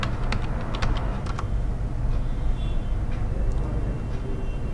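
Someone types quick bursts of keystrokes on a computer keyboard to enter router login details, the clicks clustered near the start and fading to sparse taps over a constant low background rumble.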